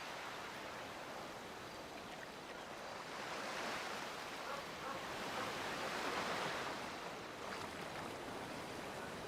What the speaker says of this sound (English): I listen to the lovely waves.